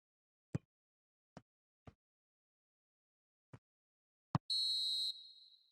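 A referee's final whistle in the PES 2021 football video game during an Eredivisie match, a single bright sustained whistle blast after several sparse short thuds, then fading away.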